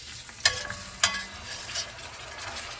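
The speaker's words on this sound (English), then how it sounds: "it's sizzling" Whole chicken sizzles in a Dutch oven, a close steady frying crackle with two sharp clanks of the bird or utensil being shifted in the pot.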